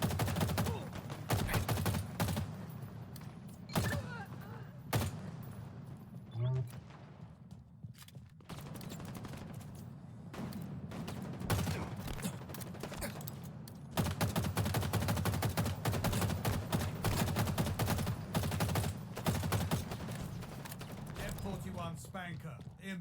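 Rapid gunfire bursts from the Halo video game training mode play continuously, with dense automatic fire, short pauses and mechanical clanks, while a voice occasionally speaks over the game.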